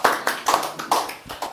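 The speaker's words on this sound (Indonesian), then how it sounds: "tepuk tangan." Hand clapping on a business podcast, a handful of distinct sharp claps in an uneven rhythm, close and fairly loud, with no talking over them.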